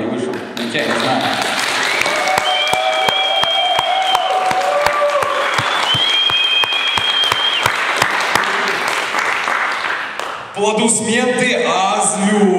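A crowd at a poetry reading applauds steadily with voices and whistles over the clapping, then it cuts briefly before the noise returns.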